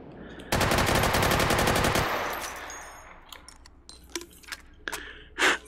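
A weapon fires in rapid bursts in the VR game Hot Dogs, Horseshoes & Hand Grenades: a loud fast volley of shots that cuts off into clicks, rattles and metallic handling sounds.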